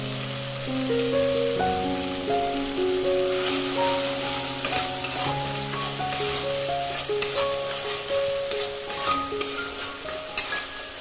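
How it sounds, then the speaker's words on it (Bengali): Spice paste with chilli powder, turmeric and salt sizzles and spatters in frying oil for a fish curry, a constant hiss with light stirring clatter beneath steady background music. "ভালোভাবে নেড়ে চেড়ে কষিয়ে নেব। মশলা থেকে তেল ছেড়ে এসছে,"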